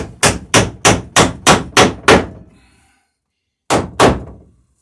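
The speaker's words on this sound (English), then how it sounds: "get a good hit with the hammer" A hammer strikes wood backed by a backing block while fitting planking on a dory's transom: seven quick, evenly spaced solid blows, a pause, then two more hits, each crisp and close.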